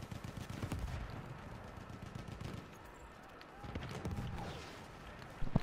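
Gunfire rattles in the World War I shooter Battlefield 1, with fairly faint bursts of rifle and machine-gun fire at a distance and a sharper crack near the end, while players talk over it.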